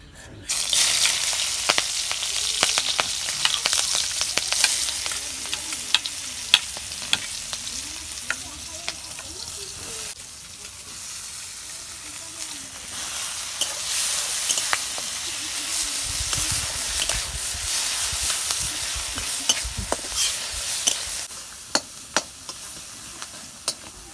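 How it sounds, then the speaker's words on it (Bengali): Onion paste fries in oil in a wok for a local chicken egg bhuna, a steady crackling sizzle that runs throughout with occasional sharper spatters and soft stirring scrapes, no voices. "কারাই গরম হচ্ছে আমি তেল দিয়ে দিব প্রথমে আমি পেঁয়াজ বানা ভেজে নেব"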